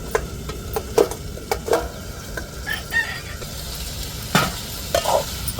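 Chicken frying in a covered pan, now uncovered and stirred, with a steady sizzle and repeated sharp scraping strokes of a spoon against the pan.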